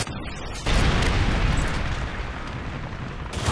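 A Predator missile explodes in a team deathmatch shooter on the Vacant map: a sudden loud blast followed by a heavy, sustained rumbling roar that slowly fades.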